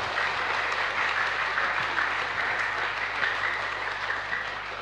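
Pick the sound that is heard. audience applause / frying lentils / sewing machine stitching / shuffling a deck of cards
audience applause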